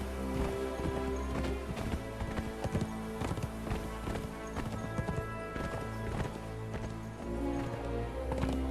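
Horse hooves clip-clop steadily in a ridden gallop through a Conan Exiles game world, a dense rhythmic patter of hoofbeats layered over game ambience and music, continuing throughout.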